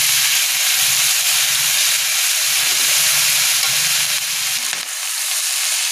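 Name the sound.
mixed vegetables (capsicum, carrot) being stir-fried in a pan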